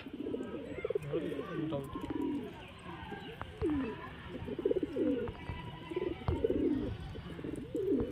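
A flock of desi pigeons in Khidirpur coos continuously in rolling, overlapping phrases, near and moderately loud, with faint background voices mixed in.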